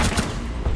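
Rapid, dense gunfire from the PS4 video game Rainbow Six, a loud continuous burst of shots with a couple of heavier thumps, no talking.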